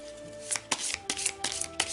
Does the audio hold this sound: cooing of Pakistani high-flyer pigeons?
no